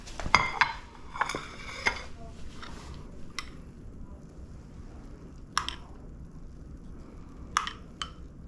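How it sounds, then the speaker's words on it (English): Cooked crab set onto a plate with dishes and utensils clinking, several sharp ceramic and metal knocks early, then sparser taps, close and moderately loud. "Let's get it onto a plate."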